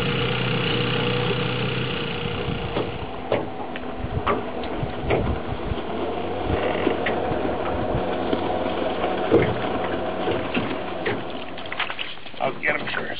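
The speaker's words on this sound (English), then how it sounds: "Trusty old motor from 1969." An old 1969 outboard boat motor running steadily on a lake, a constant loud engine drone with water and wind noise throughout for the whole stretch.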